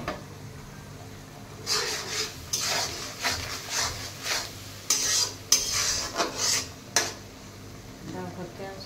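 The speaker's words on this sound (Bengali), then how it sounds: "এখন মশলাটা কষবে।" Masala for chicken curry stirred and sautéed in a pan, with repeated scraping strokes and a light sizzle close by, coming in bursts over a low background hum.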